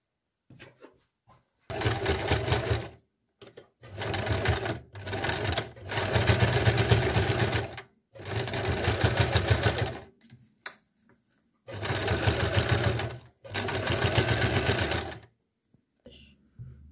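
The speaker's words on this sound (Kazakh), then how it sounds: "Енді осыны 2 мм тігіспенен машинкіде жүргізіп шығамыз" A sewing machine runs in six bursts of steady rapid stitching, each a second or two long, while sewing a 2 mm seam on a trouser waistband. Short quiet pauses separate the bursts, and no one speaks.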